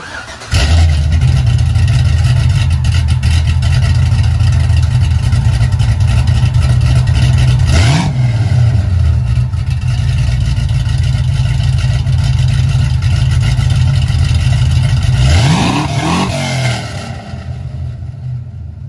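A 1970 Nova engine with straight-pipe exhaust and mufflers hanging loose rumbles loud and close, a deep steady drone broken by two sharp rev blips before settling and fading slightly.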